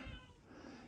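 A house cat meows once in a long, drawn-out, tonal cry, close and clear, with a low background rumble underneath.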